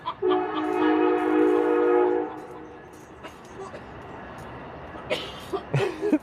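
A train horn sounds loud and sustained for about two seconds, then fades into rumbling rail noise, with a few sharp knocks and brief talk toward the end.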